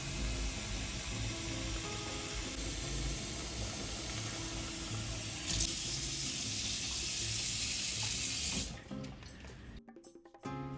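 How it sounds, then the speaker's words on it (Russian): Cold tap water runs steadily into a jar of young garlic being prepared for salting, a loud continuous gush that shifts in tone as the jar fills, then cuts off with a brief clatter. "Наполняем опять холодной водой."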